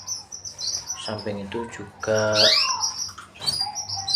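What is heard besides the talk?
male canary singing and chirping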